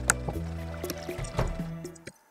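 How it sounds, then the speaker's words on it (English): A watering can waters a door in Stardew Valley: a short watery sloshing and splashing effect over quiet game background tones, lasting about two seconds before cutting off. "Gotta water the door."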